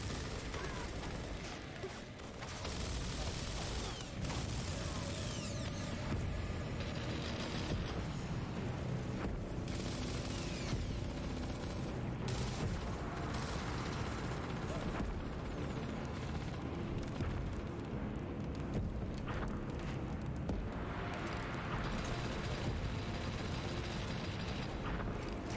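Heavy combat gunfire from the video game Gears of War, a loud, continuous barrage of shots and blasts packed together with battle noise throughout, with voices talking over it.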